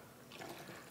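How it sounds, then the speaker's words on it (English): Liquid pesticide poured from a measuring cup into a container, a soft splashing trickle that swells briefly midway, close and fairly quiet. "Just gonna pour it in there."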